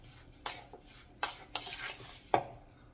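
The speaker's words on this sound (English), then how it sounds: "just stir it all together" Brown sugar being stirred into a fall dessert mixture, heard as a few distinct scraping and clinking strokes of a utensil against a bowl, close and moderately quiet, with short pauses between strokes.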